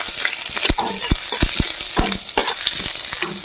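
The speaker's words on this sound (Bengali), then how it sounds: "এই রসুনটা ফোড়ন দিয়ে দিচ্ছি। এই আদাটা ফোড়ন দিয়ে দিচ্ছি।" Garlic and ginger sizzle in hot oil as a tempering, a steady crackling fry broken by sharp clicks and scrapes of stirring, close and fairly loud.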